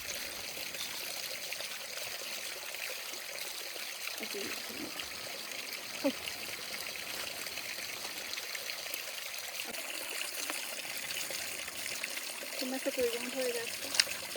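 Stream water in a village drain running and trickling while a clay water vessel is washed, a continuous close wash of flowing water with occasional splashes and clinks, and people talking over it at times.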